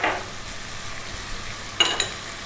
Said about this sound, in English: And now we can add our ginger garlic paste.